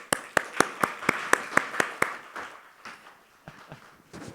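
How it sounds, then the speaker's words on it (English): At a seminar's closing, a few people clap in a slow, evenly spaced rhythm, about nine crisp claps that then trail off into softer, scattered ones in a quiet room. "Please give a big round of applause for them again"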